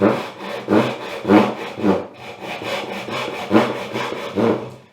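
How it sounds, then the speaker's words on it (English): A hand saw cuts a wooden dovetail joint in close, loud, rhythmic push-and-pull strokes, about two per second, rasping through the wood with no voices. "I just kind of get my saw on there"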